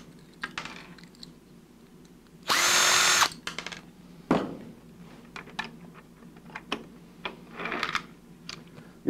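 A power driver whines in one short burst, about a second long, backing out retainer screws while assembling a 240-volt 20-amp PID controller, surrounded by quiet clicks and handling of small parts.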